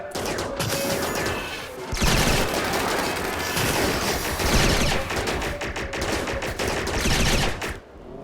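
Sustained bursts of gunfire from a RimWorld video game battle, rapid overlapping shots and machine-gun volleys continuing almost without pause, loud and dense throughout with a brief lull just before the second mark.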